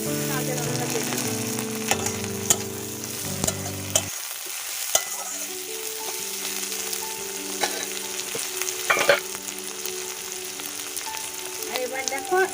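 Dry and green chillies crackle and sizzle in hot oil, a steady frying hiss broken by a few sharp pops and stirring scrapes.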